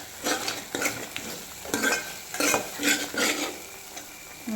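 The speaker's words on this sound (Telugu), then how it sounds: "అప్పుడు దీంట్లో మనం ఇంతకుముందు నూరు పెట్టుకున్నాం కదా ఫ్రెష్ అల్లం వెల్లిగడ్డ పేస్ట్, అది వేసి కలిపేసాము" A spoon stirs fresh ginger garlic paste into hot frying oil for an egg masala curry, scraping and clinking against the pan in rhythmic strokes over a steady sizzle.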